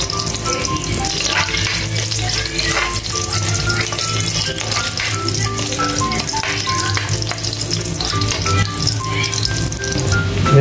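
Garlic sizzles and crackles steadily in hot oil in a pan, a loud, dense frying hiss with faint stirring rattles throughout.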